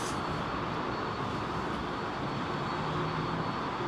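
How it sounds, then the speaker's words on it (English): A Boeing 767 at London Heathrow gives off a steady, broad engine roar that holds evenly throughout, heard at some distance with no voices over it. "Look at this lovely old 767."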